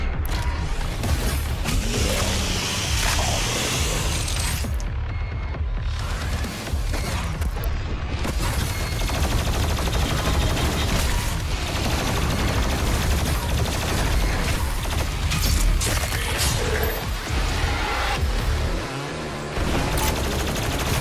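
Rapid gunfire and heavy blasts from the Deag Ranak boss fight in Doom Eternal, dense and continuous for about twenty seconds, with booming impacts and mechanical clatter layered under a pulsing game soundtrack.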